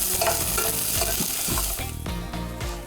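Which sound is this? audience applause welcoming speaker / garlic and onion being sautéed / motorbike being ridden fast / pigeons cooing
garlic and onion being sautéed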